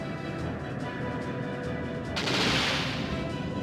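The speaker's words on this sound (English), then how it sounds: "Now I used a sub cannon." A sub cannon fires in the airship battle game Skies of Arcadia Legends: a sudden loud, bright blast of noise bursts in over a steady rumbling battle background and then fades slowly into a hissing tail.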